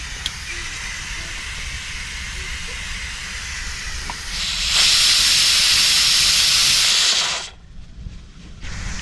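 Steady loud hiss of steam venting from a pressure cooker after boiling sweet potatoes, rising to a stronger, brighter burst for a few seconds before cutting off abruptly, with quieter hiss returning.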